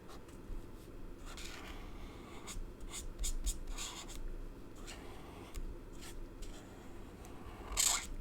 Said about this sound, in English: We can all draw lines.